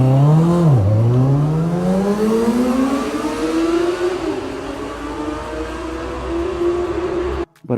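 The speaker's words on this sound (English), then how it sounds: "once you crack the throttle open, this Benda LFC700 starts pulling very," A Benda LFC700 motorcycle accelerates hard with the throttle opened wide. The engine note dips briefly, then climbs in a long, loud, rising whine before cutting off abruptly.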